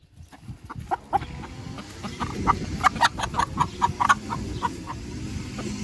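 Chickens cluck in a series of short, repeated calls with a rooster among them, close by over a soft rustling background.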